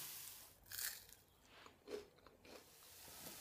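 Golden fried croutons of stale bread tossed in oil and herbs, bitten and chewed close up in a few faint crisp crunches with quiet pauses between them.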